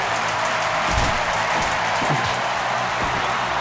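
A crowd at a live pro wrestling show cheers and applauds steadily in a big, continuous wash of sound, with no clear gaps.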